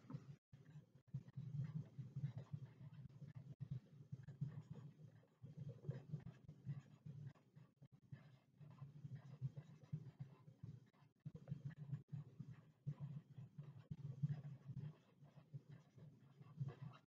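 A pen or marker writes by hand during a read-aloud lesson, giving faint, close scratching strokes in irregular bursts with brief pauses across a quiet background.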